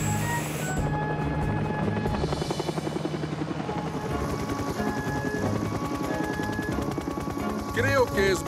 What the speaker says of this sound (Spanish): ¡No si vas en helicóptero!